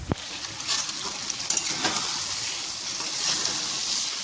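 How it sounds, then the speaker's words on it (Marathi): Mutton fries in a pan, a dense steady sizzle heard up close with a sharp clink at the start and occasional stirring scrapes, no talk. "झालं आता फ्राय करतो ते छानपैकी"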